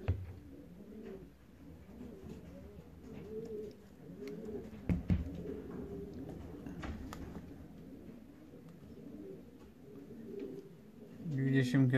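Racing pigeons coo repeatedly at their loft in soft, rhythmic low calls, nearby and fairly quiet, with someone talking over them and occasional clattering knocks.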